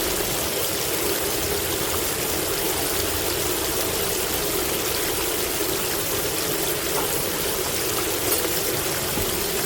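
A water sprayer on a Geo gold high banker hisses with a constant, dense rush of spraying and splashing water, steady and unbroken throughout.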